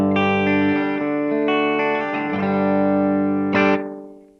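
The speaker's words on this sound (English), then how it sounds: "here's that kind of reverby sound to it" An electric guitar chord played through an Xvive V21 Echoman analog delay pedal rings out with a reverb-like wash, sustaining and shifting for several seconds before a bright final strum that decays smoothly.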